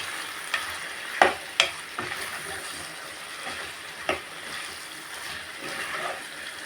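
Tomatoes for a potato curry cooking in a pan, a soft sizzle beneath a few distinct scraping stirs of a spoon, quiet and close with no talk.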